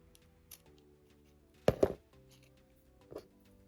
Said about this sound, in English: And then you can trim off the excess thread.